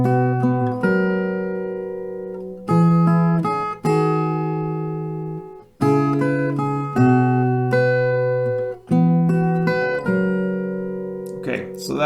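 Acoustic guitar playing a song, ringing strummed chords and picked notes in several phrases, each sustained and fading before the next, played alone without talk.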